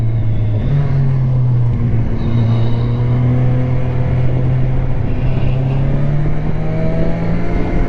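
Kawasaki Versys 1000 motorcycle engine on the road with a quick shifter, a loud continuous engine drone with shifting pitch as gears change, under steady wind rush.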